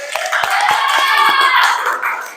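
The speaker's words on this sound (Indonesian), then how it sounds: "Tepuk tangan untuk Bita." Audience applause in a school guidance-counselling session, dense clapping with scattered sharper hand claps, steady and fairly loud through the whole stretch before tapering slightly at the end.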